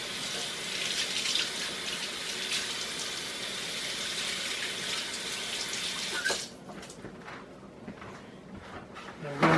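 Water runs steadily from a kitchen tap while hands are washed, a continuous splashing hiss that cuts off abruptly near the end, followed by a few faint knocks.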